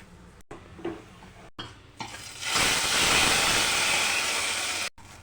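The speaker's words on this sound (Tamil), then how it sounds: "தாளித்து ஊற்றியாச்சு." Hot oil tempering with mustard seeds, curry leaves and chilies poured into a ridge gourd curry, a loud, steady close sizzle that bursts in after a few soft stirring and clinking sounds and runs for a couple of seconds.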